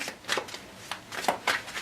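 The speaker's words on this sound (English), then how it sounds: "we're going to give it a bit of a shuffle" A deck of cards shuffled by hand during a Pandemic Legacy board game setup, giving several quick riffling bursts close by, with no one talking.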